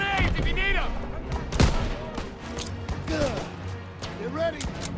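Gunfire in the World War II shooter Call of Duty WWII, with sharp shots and bursts scattered across a busy battle soundscape, one loud close report standing out, while voices shout over the fighting.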